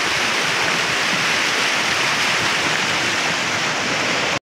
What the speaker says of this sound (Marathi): हा बघा सुंदर असा हा धबधबा आहे.